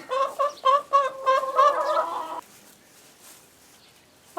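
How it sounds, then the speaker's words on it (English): Several chickens cluck close by in a quick run of calls for about two seconds, then only faint background noise remains. "the first thing is to get these chickens taken care of"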